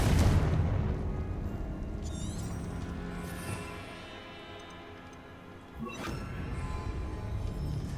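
Confringo fire spell blasts in Hogwarts Legacy: a loud, crashing burst opens the stretch and fades, then a second sharp impact hits a few seconds later over steady game ambience.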